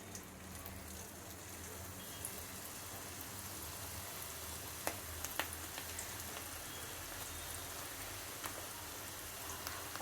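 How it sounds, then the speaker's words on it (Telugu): Cabbage pakodi deep frying in hot oil, a steady dense sizzle and crackle with occasional sharper pops, fairly quiet and continuous throughout. "ఇప్పుడు డీప్ ఫ్రై చేద్దామండి. Oil heat ఎక్కిందండి."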